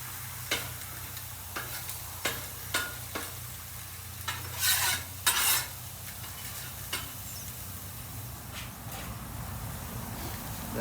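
Burger patties and bacon sizzling on a barbecue grill, a low constant sizzle with scattered scraping spatula strokes and taps, fairly quiet, no talking.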